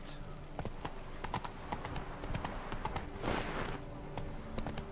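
Galloping hooves of Roach, Geralt's horse in The Witcher 3: Blood and Wine, clip-clop steadily in a fast rhythm over game ambience, with a brief swell of noise midway.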